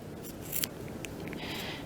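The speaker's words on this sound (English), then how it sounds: "probably just get your little 2-3 inch baby scissors out and just cut that sucker in half" Small 2-3 inch scissors snip through a fabric seam on a vest, a few sharp, crisp cuts close up, then a brief rustle against a quiet room hiss.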